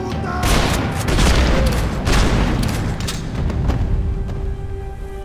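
Shotgun fire in Max Payne 3 comes as loud, close, heavy blasts that follow one another rapidly, forming a dense barrage that continues throughout.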